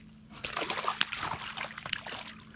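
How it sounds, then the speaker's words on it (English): A fish released from a riverbank at night splashes and sloshes softly in the water, a brief run of close, quiet splashes. "All right, let's get this guy back in the water."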